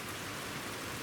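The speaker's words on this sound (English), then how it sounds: "what do you think of the rain?" Rain falling steadily, a dense even hiss of drops on surfaces heard up close for a brief moment with no voices.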